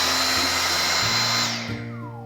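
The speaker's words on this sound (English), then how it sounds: "this is your whole vacuum cleaner, and it's so light and not that noisy" A Dyson V6 Absolute cordless vacuum cleaner whirs with a high motor whine, then spins down as it is switched off, close and loud.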